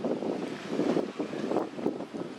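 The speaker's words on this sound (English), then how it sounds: "this wind is horrendous" Strong, gusty outdoor wind roars steadily across the microphone with a dense, rumbling rush that swells and dips in waves, no voices present.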